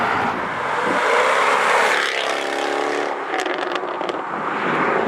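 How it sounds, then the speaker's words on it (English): A Jaguar F-Type R Coupe's engine roars loudly as it accelerates and shifts, revving up and down close by, with brief tire noise near the end. "let's take you for a ride in the all-new Jaguar F-Type Coupe"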